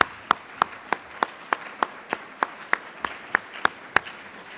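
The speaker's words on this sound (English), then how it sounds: "Please give Jack a round of applause." Evenly spaced single claps ring out one after another in a steady rhythm, sparse and crisp rather than a full crowd, in a hall honoring Jack at an association's leadership award dinner.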